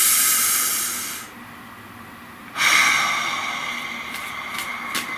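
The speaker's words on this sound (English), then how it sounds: "Nice deep breath." A slow, deep breath drawn in and let out close to the microphone, two long airy hissing stretches separated by a brief pause, with no talking.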